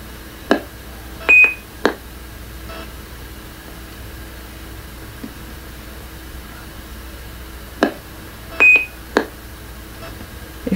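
Electronic beeps from a 1989 telemarketing computer system reading data off a cassette tape, short high tones in two matching clusters of three or four beeps each, separated by several seconds of faint hiss.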